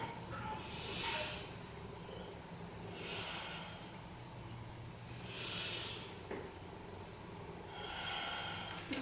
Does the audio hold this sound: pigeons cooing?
no